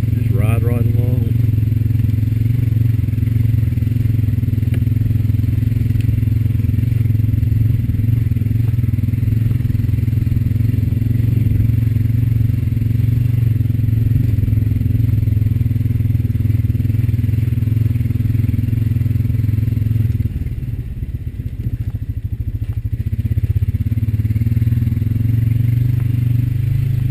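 A Honda Rancher 420AT ATV engine drones steadily in high gear while riding, a loud, constant low rumble with faint clatter that briefly dips and recovers near the end.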